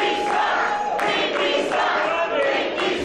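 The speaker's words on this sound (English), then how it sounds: "And there's the crowd already on Pinky" Wrestling crowd at a Kongo Kong versus Bill Collier match roars and jeers at a wrestler, a loud, continuous mass of voices with swelling shouts throughout.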